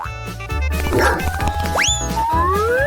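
A dog barks and yips in a video game, short cartoonish barks over a bouncy game soundtrack, with sliding whistle-like tones sweeping upward partway through.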